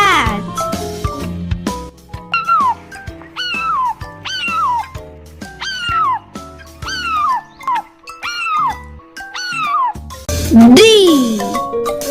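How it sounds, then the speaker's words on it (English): A cat meows once near the end, a clear rising and falling cry, after a stretch of cheerful musical notes and sung phrases from a children's alphabet song. "C for cat."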